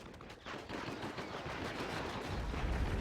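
Rapid automatic gunfire from Phoenix units cutting down Marines in the real-time strategy game Act of Aggression, a dense, continuous crackle of shots with heavy low rumble building toward the end, no talk.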